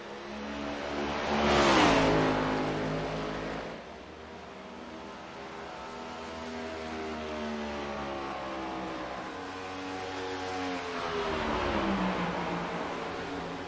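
A NASCAR Next Gen Cup race car at Darlington roars past during a race, its engine note rising then falling in a loud Doppler sweep, followed by a steady drone of cars circulating and a second engine swelling near the end.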